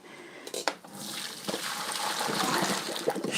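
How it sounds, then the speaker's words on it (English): Boiled potatoes are tipped into a strainer in a kitchen sink, and the cooking water splashes and gurgles down the drain in a rising, steady trickle after a few clinks. "Strain out the potatoes."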